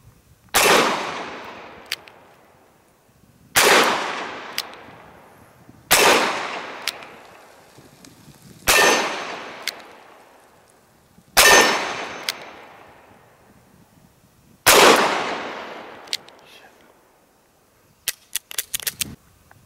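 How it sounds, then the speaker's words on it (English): Dan Wesson 715 .357 Magnum revolver fired single action, six loud, sharp shots spaced roughly every three seconds, each with a ringing decay, followed by a few faint metallic clicks. "we're going to shoot it through the Dan Wesson 357"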